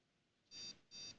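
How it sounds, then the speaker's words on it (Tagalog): An ECS H110M4-C43 computer motherboard with a bent pin beeps on power-up, two short, faint electronic tones in quick succession. "Ayan o, nag-beep na."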